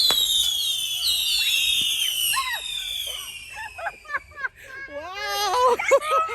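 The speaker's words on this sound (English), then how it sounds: "Nice little cake here, fireworks." A fireworks cake goes off outdoors at a beach-town family gathering, with long rising whistles that sweep down in pitch, overlapping and continuing steadily, while people talk and call out nearby.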